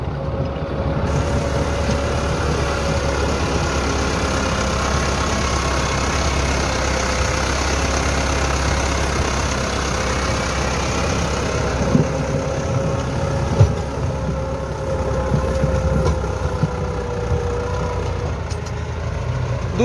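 A Massey Ferguson 385 tractor runs in first gear while pulling a 72-cutter rotavator, giving a loud, steady, close diesel drone that holds unbroken throughout with no talk.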